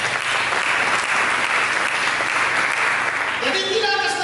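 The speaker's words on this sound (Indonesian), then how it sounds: "Mari kita berikan tepuk tangan." A church congregation applauds steadily and loudly throughout, a dense wash of clapping that holds at full strength for several seconds, with a brief tonal sound emerging near the end.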